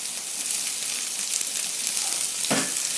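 Bell peppers hit a hot pan while cooking Cantonese chicken, giving a loud, continuous close sizzle with a short stirring scrape near the end.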